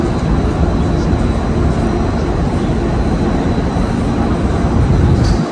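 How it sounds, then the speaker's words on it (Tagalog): Airplane taking off in the distance near a Shanghai mall, a broad continuous roar of jet engine noise holding steady throughout. "may aeroplano pa doon na kate-take off lang"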